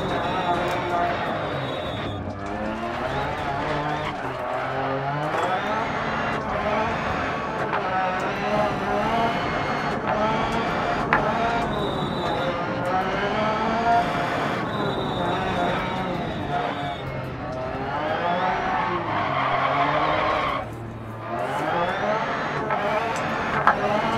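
A rally car engine drones and revs through a stage in the Dirt Rally VR racing game, pitch climbing and dropping with gear changes, loud and continuous under someone talking.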